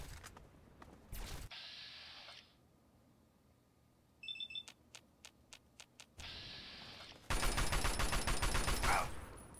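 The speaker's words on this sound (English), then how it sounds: "I do have an assault rifle." Bursts of assault rifle fire in Fallout 3, a video game, come in short separated shots followed by a louder, denser rapid volley near the end, mixed with interface beeps and game noise.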